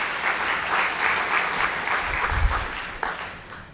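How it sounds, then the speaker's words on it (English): Conference keynote audience giving a round of applause, a sustained wash of many hands clapping that fades near the end, moderately loud and even, with no speech. "a round of applause"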